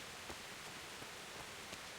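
Steady rain falls in the medieval world of Kingdom Come: Deliverance, a faint, even hiss of drops with only soft scattered taps and no voices.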